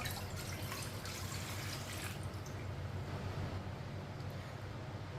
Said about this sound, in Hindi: अब कढ़ाई में पानी डाल लेंगे।